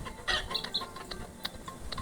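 Chickens cluck in a short burst of sharp, bright calls over a rustling, noisy background, as if hens are being chased around a yard; no speech is heard.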